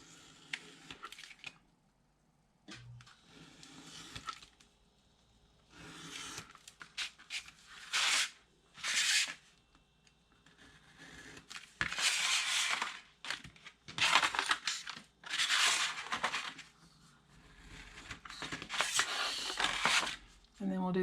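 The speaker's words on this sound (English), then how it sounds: "So I am going to trim this using my finger X-Acto knife." Paper corner pieces being trimmed with a finger X-Acto knife, heard as repeated bursts of crisp cutting and crinkling, with quiet stretches between them and a person talking at times.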